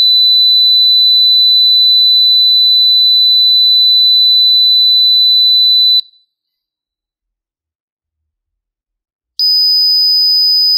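Piezo buzzer driven by an Arduino sounds a steady pure tone near 5000 Hz, loud and close, cutting off after about six seconds; after a silent gap a harsher, louder tone resumes near the end.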